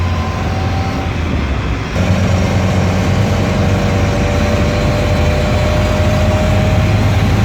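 A small carburetor car cruises at about 55 mph on the 210 freeway toward San Fernando, giving a steady, loud, continuous engine and road drone from inside the cabin, with a slight shift in tone about two seconds in.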